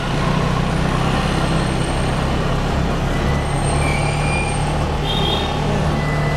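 An old Vespa scooter converted to an automatic transmission, heard while riding: a loud, steady engine drone with a low hum, blended with constant rushing wind and road noise that stays unbroken for the whole stretch.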